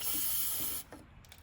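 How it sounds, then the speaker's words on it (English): A steady hiss of aerosol cleaner sprays into a Polaris RZR Pro R tie rod housing for just under a second, then cuts off, leaving quiet room tone. "we're going to spray this out, clean it out good"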